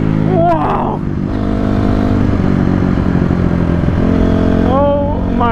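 A Honda CRF250R dirt bike engine revs hard, close and loud, its pitch sweeping up and down through repeated throttle blips over a steady rough drone.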